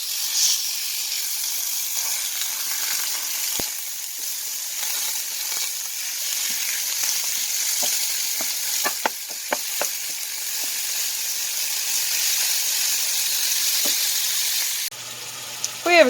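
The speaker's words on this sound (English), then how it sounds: "we're just going to throw this pound of ground beef right into the skillet and get it browning." A pound of ground beef browns in a skillet with a steady close sizzle and scattered small pops and crackles, ending in a brief rustle.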